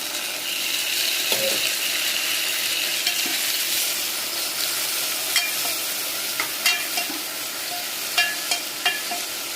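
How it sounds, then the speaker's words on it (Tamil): Tomato sautéing with browned onions in a pan gives a steady close sizzle, broken by scattered scrapes and clicks of stirring that sharpen toward the end. "வெங்காயம் நல்லா ப்ரௌனாக வதங்கி முடிஞ்சதுக்கு அப்புறமா தக்காளி போட்டு"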